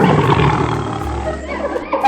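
A cartoon lion roars continuously and loudly while beating a jackal in a jungle, a rough, growling sound that fades slightly toward the end.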